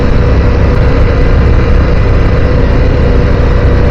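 Ducati Diavel V4 motorcycle with a 1153 cc V4 engine and standard catalytic-converter exhaust, holding a steady loud drone with dense low rumble throughout, no clear rev changes.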